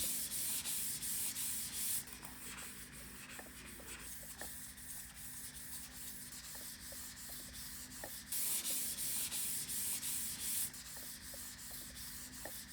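A Logitech SUPERLIGHT mouse scrapes its thin feet across a mousepad, making a continuous dry, scratchy rubbing hiss that swells in bursts as it moves. The sound is close and fairly quiet, with no talking.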